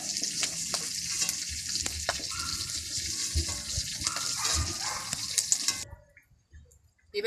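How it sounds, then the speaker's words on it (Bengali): River snails fry in a pan, a dense crackling sizzle broken by scraping stirs, then the sound cuts off abruptly near the end as the pan comes off the heat. "গুগলি বেশি ভাজার দরকার নেই"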